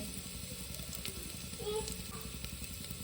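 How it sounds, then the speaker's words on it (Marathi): Finely chopped onion sizzles and fries in a pan, a steady close crackle with faint stirring scrapes and no talk. "बारीक कट केलेला कांदा टाकला"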